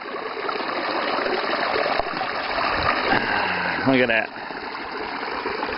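An Appalachian mountain river rushes steadily nearby, a continuous broadband wash of flowing water, with a voice speaking briefly over it partway through.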